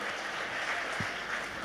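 An audience in a hall applauds to welcome Swami Atmanand Saraswati at a lecture event, a soft, steady wash of clapping heard from a distance, with one brief low thump partway through.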